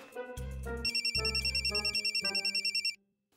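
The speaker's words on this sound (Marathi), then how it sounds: "वर्षाचा फोन." An electronic phone ringtone plays a bright melodic pattern with rapid pulsing beeps for about three seconds, then cuts off.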